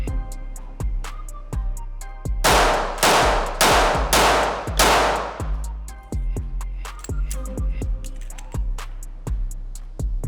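Rapid pistol shots from a SIG P365 XMacro, a string of about five loud cracks in quick succession, preceded and followed by sharp metallic clangs and pings of steel targets ringing out.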